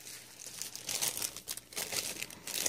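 A plastic shopping bag being crinkled and handled up close, a run of crisp, irregular rustling bursts with brief pauses, fairly quiet, no voices.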